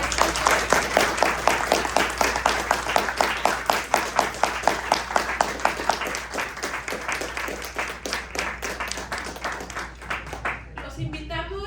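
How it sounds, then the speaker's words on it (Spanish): Audience applause at a book presentation during a book fair, a dense run of clapping that holds steady and then thins out toward the end. "aplauso"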